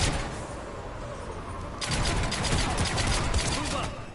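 A mounted gun fires in the Mass Effect 3 video game, breaking into a dense, rapid burst of shots that carries on loud and continuous over a noisy battle din.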